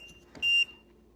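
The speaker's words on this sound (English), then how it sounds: "when it's off level, it beeps letting you know this is, it's not working, this isn't level" A single short, high electronic beep from a laser level warning it is off level rings out once, close by, in an otherwise quiet space.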